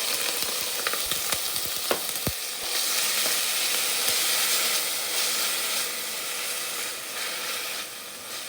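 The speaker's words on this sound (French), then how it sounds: "Je fais revenir mes oignons et j'ajoute les autres épices." Chopped onion fries in oil in a pot with a loud, steady sizzle up close. Several clicks and taps of a stirring utensil come in the first few seconds.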